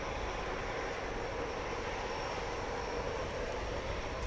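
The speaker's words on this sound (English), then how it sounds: "This is a Convair CV 5800. Is on the move." A Convair CV-5800 cargo plane moves on the ground at Grand Cayman airport, its engine noise a steady, broad roar held at an even level from start to finish with no talk over it.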